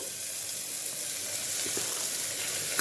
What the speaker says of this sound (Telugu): ఇప్పుడు చిక్కుడుకాయ వేసుకుంటున్నాను.